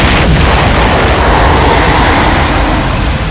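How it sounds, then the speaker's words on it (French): A loud, sustained roar of blast-like rumble from a wartime explosion in a town street near a church tower fills the whole stretch, broadband and heavy, with no voices over it. "Vers 9 h, l'explosion retentit."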